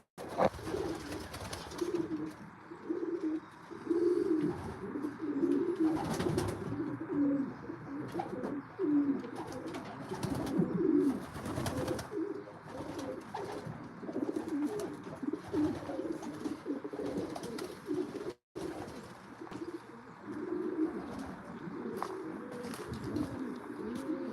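Racing pigeons of an old bird team coo around their loft, soft repeated throaty calls from several birds overlapping at moderate distance, with faint wingbeats and outdoor background and no speech.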